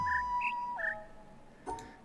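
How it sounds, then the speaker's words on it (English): Short tonal bird chirps from an audio puzzle game ring out in a quick run of three clear notes, then a lower call and a faint fourth blip after a pause, crisp and close. "Unless it's now the other bird I'm supposed to hear."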